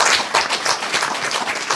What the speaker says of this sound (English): A round of applause, please, for all of our presenters.